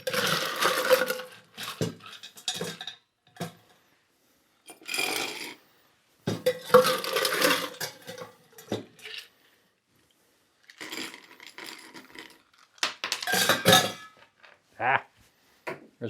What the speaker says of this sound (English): I want to fill this all the way up with those smaller sized ice cubes again